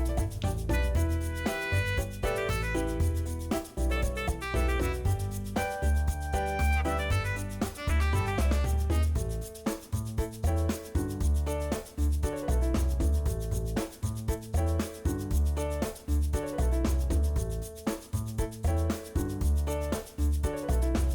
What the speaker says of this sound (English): Scrape some chalk pastels and mix with transparent Liquid Sculpey.